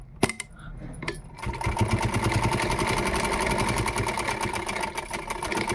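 After a few clicks and handling knocks, a sewing machine starts up and runs steadily at a fast even pace, stitching the shoulder seam of a velvet suit, close and loud.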